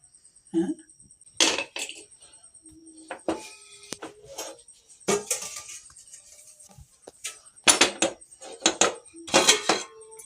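Medicinal mutton leg soup is strained through a sieve into a pot, with scattered metallic clinks and clatters of utensils against the vessel in short irregular bursts amid quiet gaps.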